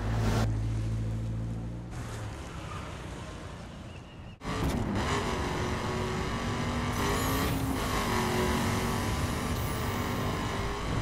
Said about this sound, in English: And lots of driving of some cool cars.